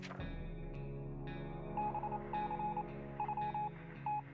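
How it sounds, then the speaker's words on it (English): Rapid high-pitched Morse code beeps in short and long bursts tap out over a steady humming radio tone, from the video game UFO 60 Second Apocalypse. "Is that Morse code?"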